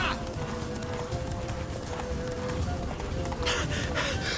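Roach the horse gallops in The Witcher 3, with rapid rhythmic hoofbeats up close under a steady game soundtrack tone, plus a brief snort or whinny and some muffled voice.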